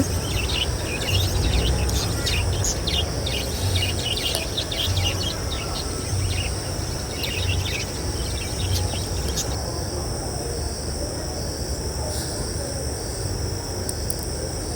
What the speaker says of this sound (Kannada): ಆ ಲವ್ ಬರ್ಡ್ಸು, ಆ ಸೌಂಡು ಎಲ್ಲನೂ ಪಿಚ ಪಿಚ ಅಂತ ಕಿತ್ತಾಡ್ತಿತ್ತು.